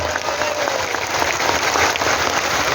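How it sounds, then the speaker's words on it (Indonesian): An audience at an Indonesian Islamic sermon gathering breaks into dense, steady applause that fills the whole short stretch at a fairly loud, even level. "Tepuk tangan untuk beliau."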